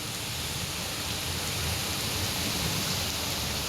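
Heavy rain falls over flooded streets in Ajmer, Rajasthan, a dense, unbroken roar of downpour close by, steady and loud with no voices.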